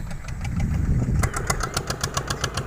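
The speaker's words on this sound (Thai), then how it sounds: "เสียงดังกันขอโทษขออภัยพี่น้องนะครับ เด้อ อยู่ใกล้รถไถครับผม" A tractor's diesel engine chugging nearby, a loud rumbling idle that shifts into a rhythmic knocking beat partway through.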